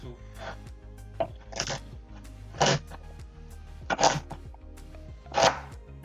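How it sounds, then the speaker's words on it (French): A large-bladed kitchen knife chops ingredients into small pieces on a board, about six separate sharp knocks spaced irregularly, close and fairly loud over a faint background hum. "Et on va venir couper des petits"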